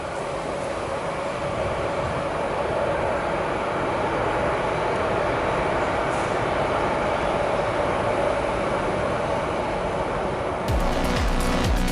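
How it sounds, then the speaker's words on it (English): London Underground tube trains rumble past in a cutting on the East London Line, a steady, loud rolling roar that holds throughout, with a sharper clatter of wheels near the end. "There are the tube trains"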